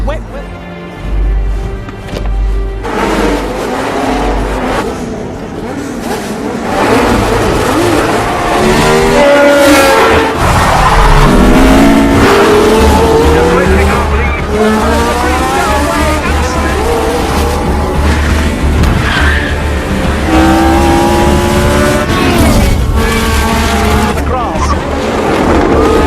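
McLaren and Ferrari Formula One cars racing on a drying track, loud high engine whine rising and falling as the cars storm past, continuous and dense, with a commentator talking over it.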